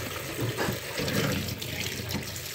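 Something is washed under a running kitchen tap, giving a brief, steady splashing rush of water close by.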